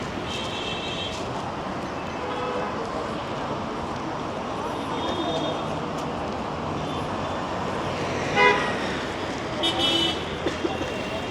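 Busy Mumbai street traffic with a steady roar of vehicles and scattered car horns honking, the sharpest toots bunched near the end and mostly a little distant, with faint voices mixed in.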